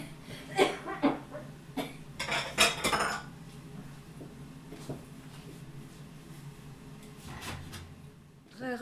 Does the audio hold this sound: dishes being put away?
yes